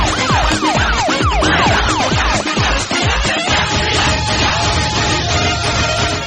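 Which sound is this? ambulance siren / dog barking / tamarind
ambulance siren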